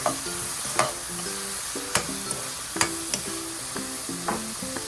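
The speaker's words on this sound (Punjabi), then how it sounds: "ਹੁਣ ਇਹਨੂੰ ਆਪਾਂ ਮਿਕਸ ਕਰ ਦਵਾਂਗੇ" Spoon stirring spring roll filling seasoned with black pepper in a pan, producing a series of sharp scraping clicks at an irregular rhythm over a steady sizzle, close up with no voices.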